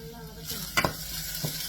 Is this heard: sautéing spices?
yes